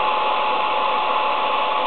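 Close, continuous roar of a hair dryer heating a thermometer, its airflow and motor whine holding steady without pauses or speech.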